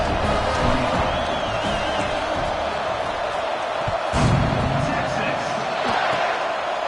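A stadium crowd roars continuously at kickoff in a college football video game, a dense, loud wall of cheering with a sharp thump near the middle, while a commentator talks over it.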